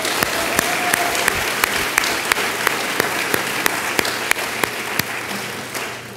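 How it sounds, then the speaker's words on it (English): Sustained audience applause at an entrepreneurship awards ceremony, a full, even roar of clapping with distinct sharp claps punctuating it, tapering slightly near the end. "Let's give them another round of applause."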